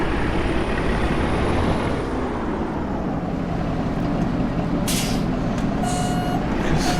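Truck in American Truck Simulator maneuvering into a spot, a steady engine drone running throughout with reversing beeps and a hiss of air brakes near the end.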